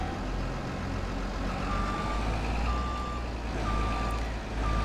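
A DOT truck in Farming Simulator 22 idles with a steady low engine rumble, while a faint, repeated reversing beep sounds at even intervals over the drone.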